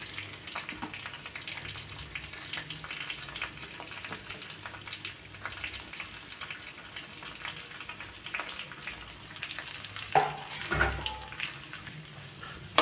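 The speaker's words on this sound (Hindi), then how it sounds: "आलू डाल लिए हैं और इसको थोड़ा सा भून लेते हैं" Hand-mashed new potatoes fry in a pan for a bread pakoda filling, giving a soft, steady sizzle that grows louder with a clatter of stirring near the end.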